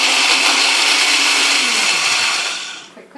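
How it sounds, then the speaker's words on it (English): A countertop blender whizzes cashews on their own, a loud steady high-speed whir that holds for about two and a half seconds before winding down and cutting off. "I'm going to throw them into the blender"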